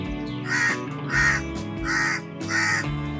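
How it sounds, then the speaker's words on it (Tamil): Crows caw repeatedly outside, four loud, close harsh calls in an even rhythm with steady background hum underneath. "காக்கா சத்தம்லாம் கேக்குது."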